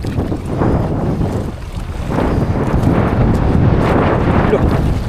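Rough Pacific sea swells wash and slap around a fishing boat, with heavy wind buffeting the microphone in loud, continuous surges.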